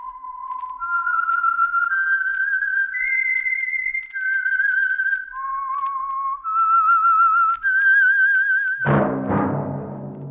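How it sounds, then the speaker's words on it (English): A lone whistler performs the eerie, wavering theme melody of the Signal Oil radio mystery program, with clear sustained notes stepping up and down, ending in a sudden orchestral chord. "That whistle is your signal for the Signal Oil Program, The Whistler."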